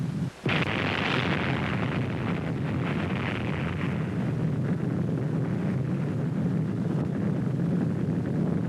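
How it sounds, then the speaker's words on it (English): A nuclear bomb test explosion, its fireball rising into a mushroom cloud, opens with a sharp blast and then becomes a long, loud, rumbling roar that holds steady with no voices. "There is the ball of fire, growing and rising above the clouds and smoke of the explosion."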